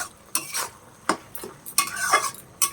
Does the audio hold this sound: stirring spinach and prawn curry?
yes